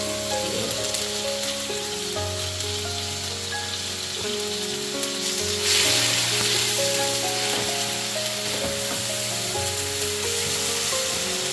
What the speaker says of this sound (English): If you're frying and you don't hear the sound, it means you're not Doing it right.